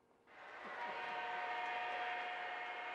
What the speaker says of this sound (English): You can watch trains run for about 20 minutes before you see one repeat its path.